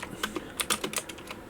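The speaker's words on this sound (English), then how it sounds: "and we will type hello" A computer keyboard clatters with a short run of quick, close keystrokes as a word is typed, the clicks irregular and crisp, with no voice.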